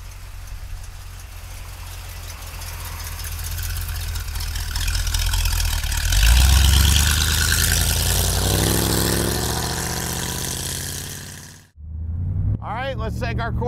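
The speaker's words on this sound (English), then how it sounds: "Let's take our Corvette for a ride." A 1976 Chevrolet Corvette engine runs steadily and builds in strength toward the middle, then cuts off sharply. A brief burst of other sound follows, with voices present.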